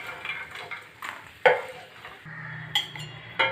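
Boiled eggs frying in a pan with a steady sizzle, punctuated by clinks and scrapes of a utensil stirring against the pan.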